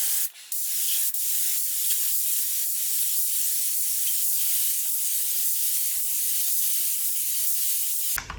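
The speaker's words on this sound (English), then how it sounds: "5th and final coat of clear." Spray gun laying clear coat onto a Jensen GT hood: a steady, loud hiss that runs almost without a break, with faint short pauses and small clicks along the way.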